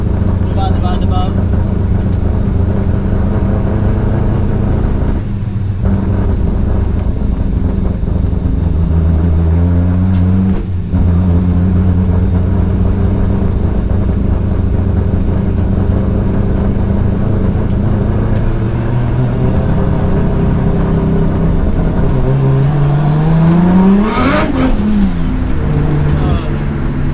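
A 700 bhp Nissan Skyline R33 engine revs and drones steadily up close, pitch rising and falling through the gears, with a brief sharp rev spike near the end and a misfire fault.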